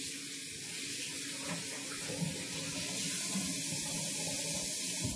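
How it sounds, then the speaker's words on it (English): Water streams steadily from a ZURN sensor faucet, a continuous close hiss and splash into the sink that holds at an even level throughout. "Show your hands under the faucet"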